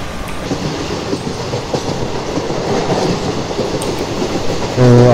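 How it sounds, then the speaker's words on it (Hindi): A BTPL freight train hauled by a BLW locomotive rolls past at Tindrani station in Microsoft Train Simulator (Open Rails) on an Indian route, a steady rumbling clatter of wagons throughout, close and loud, with a horn-like tone at the end. "BLW के साथ BTPL फ्राइड ट्रेन हमें क्रॉस दे रही है टिंद्रानी स्टेशन पे।"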